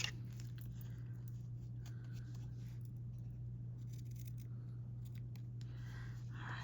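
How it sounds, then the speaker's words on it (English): Scissors cut paper while a journal page is being made, giving faint, close snipping and rustling over a steady low hum, with no talk. "All right, so then I'm gonna cut it."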